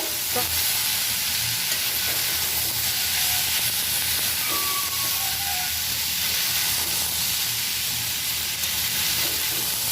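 Carrots and beans fry for semolina pulao in a steady, dense sizzle that hisses continuously for the whole stretch, close up, with faint stirring underneath.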